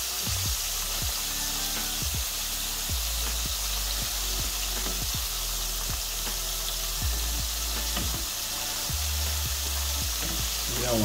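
Shrimp frying in oil on an electric stove, a steady, loud bubbling sizzle with scattered clicks and pops throughout.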